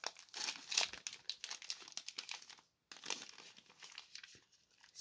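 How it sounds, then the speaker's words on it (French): A tightly sealed Lego Ninjago trading card booster pack wrapper is torn open up close, with dense crinkling and tearing bursts, a brief pause, then more crackling foil. "Un booster de Zane"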